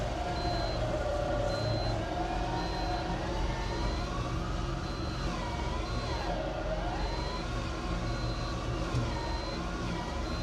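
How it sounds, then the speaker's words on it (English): A vehicle winch hauls a stuck vehicle free, its electric motor giving a continuous whine that wavers in pitch under load, with faint regular high beeps and steady engine rumble beneath. "You can hear the winch working."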